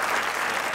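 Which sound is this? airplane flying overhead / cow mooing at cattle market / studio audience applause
studio audience applause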